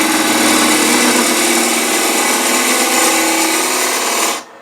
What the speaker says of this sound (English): So I hollow out the lid with a 3/8 inch spindle gouge.